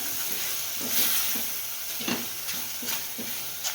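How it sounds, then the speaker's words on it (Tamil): Mushroom chukka sizzles steadily in a pan over a low flame, a close, constant frying hiss with regular scraping stirs at roughly half-second intervals. "நல்லா கைவிடாமல் நல்லா சிம்மில் வச்சுட்டு நம்ம கிளறி"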